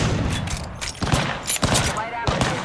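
Bursts of gunfire in the Apex Legends battle royale video game, several quick sharp volleys and single cracks at moderate loudness over a constant background of game noise.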